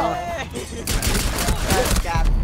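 Rapid, sharp pistol shots fired in the Rainbow Six video game, a burst of close cracks and clatter in quick succession, with bits of voice chat between them.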